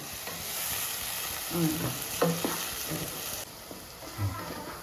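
Crabs frying in a pan for crab curry, a steady hiss and sizzle with occasional stirring scrapes and clinks, fairly close and quiet, no talking.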